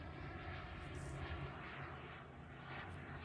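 A Freewing Zeus RC turbine jet with a Chico X45 engine flying overhead, a steady broad turbine roar and rushing whine that swells slightly as it passes at a moderate distance.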